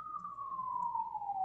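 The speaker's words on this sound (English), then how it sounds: "excuse all the sirens" A single siren wail sliding slowly downward in pitch, steady and fairly loud over low city rumble in New York City.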